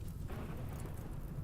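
Rain and thunder in the RimWorld video game, a steady dense wash of rainfall with low rumbling underneath, continuous and fairly loud without pauses.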